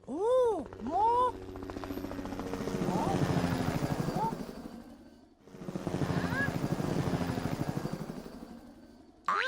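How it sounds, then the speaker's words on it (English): Cartoon helicopter sound effect in a children's animal animation: a steady chopping rotor drone that swells and fades twice, with a short break midway, under cheerful voices at the start and end. "Helicopter!"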